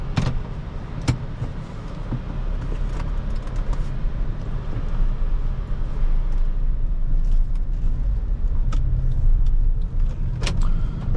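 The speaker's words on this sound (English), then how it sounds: "let's go take this Accord for a spin" Interior road noise from a 2010 Honda Accord EX-L V6 on the move, a steady low rumble of engine and tires with a few faint clicks and rattles throughout, no talking.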